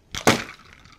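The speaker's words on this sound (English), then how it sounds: "And just like that, the can is crushed." An aluminium can upended into ice water implodes in a short, loud crunching crack with a brief crinkle before it, then fades to quiet.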